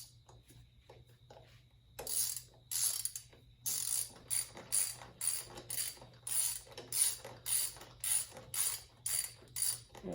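Ratchet tightening bolts on a Subaru STI Perrin boost solenoid cover, close rhythmic bursts of clicking strokes repeating steadily after a few quieter taps, with no talking.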